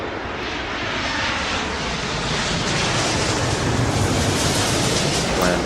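Loud, steady roar of a jet airliner taking off in the Airport Madness airport simulation game, broadband engine rush building slightly over several seconds, with no voices.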